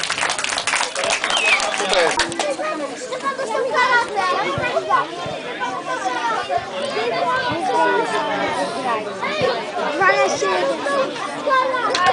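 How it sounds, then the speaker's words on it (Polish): Applause and cheering from children and spectators mark the close of a youth football tournament, with busy crowd chatter and kids' voices mixed through the continuous clapping. "Jeszcze raz gromkie brawa"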